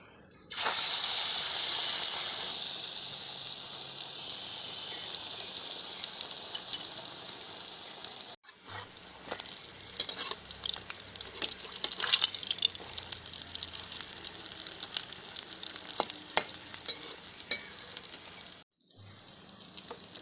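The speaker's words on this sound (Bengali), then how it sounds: "এবার কুমড়া পাতার বড়াটা ভেজে নিচ্ছি।" Pumpkin leaf fritters fry in hot oil with a continuous moderate sizzle and faint crackling, briefly cut off twice before the bubbling resumes.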